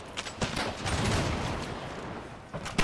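Musket volley fire on a battlefield in Empire: Total War, heard as ragged, overlapping crackling shots spread across the clip, with a dense rolling patch in the middle and a few sharper bursts near the end.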